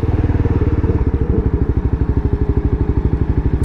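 A liter bike motorcycle passing close behind, its engine throbbing in a fast steady pulse that stays loud and near, with no speech.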